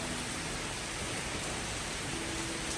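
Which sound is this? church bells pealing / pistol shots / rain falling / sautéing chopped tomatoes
rain falling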